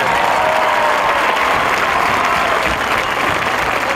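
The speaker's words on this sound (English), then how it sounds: "Let's give them a big round of applause." A high school band audience claps loudly and continuously for the majorettes, a dense, even wash of applause from a large crowd with no break.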